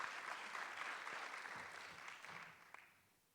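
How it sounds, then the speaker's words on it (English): Audience applause after a scientific session on dust emission in southwest Angola, a soft, fairly faint patter of many hands that holds steady for about two seconds, then thins to a few last claps and fades away. "A final round of applause for our speakers."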